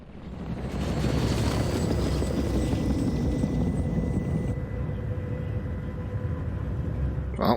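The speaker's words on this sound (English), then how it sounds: "Well, there goes that helicopter." A helicopter's steady thudding rotor drone in a TV drama scene, loud and close, holding a continuous roar throughout.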